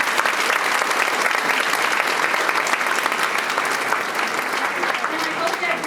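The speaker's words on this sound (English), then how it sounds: "Let's give them all a round of applause." Dinner audience at an annual charity dinner applauding new board members: dense, continuous clapping filling the room at steady loudness from start to finish.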